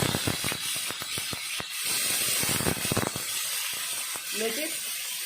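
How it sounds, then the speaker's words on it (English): Paneer frying in about two teaspoons of oil in an ordinary pan gives a steady bright sizzling hiss with crackles and small pops, heard up close throughout. "You can hear the sizzling sound."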